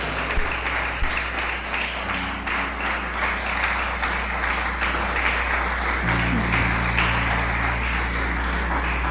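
Church congregation applauding during a sermon, continuous crowd clapping with a steady electronic hum and organ-like tones underneath, moderately loud and sustained throughout.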